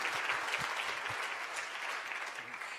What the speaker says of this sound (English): we just wanted to give ask you guys to help us in a round of applause for our sponsors